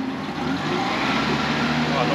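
A mini truck with no power steering idles low and steady while backing up a mini gooseneck trailer, its engine hum sitting under people talking nearby.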